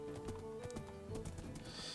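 Horse in the Minecraft video game, quick clip-clop hoofsteps with a brief snort, faint and close over a couple of seconds.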